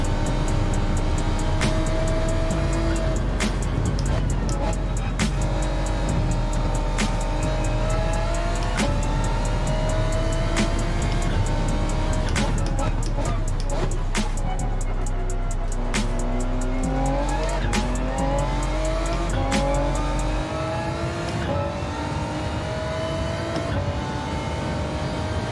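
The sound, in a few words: Ford GT race car driving in Gran Turismo 7 video game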